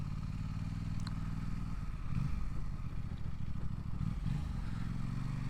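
A 2026 Aprilia RS660 Factory sport motorcycle engine starts and rumbles steadily at idle, low and close, with a couple of brief throttle swells and some light mechanical clatter.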